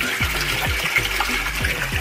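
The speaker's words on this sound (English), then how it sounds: "The main grow bed here is draining right now." Water draining from the main grow bed of a backyard aquaponics system, a steady loud gurgling rush with repeated low glugging pulses.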